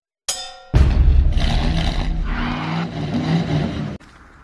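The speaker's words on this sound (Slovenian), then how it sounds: "ko pa je to za en avto?" A car revs loudly and roars past close by, its engine note surging and then cutting off sharply near the end, with no talk over it.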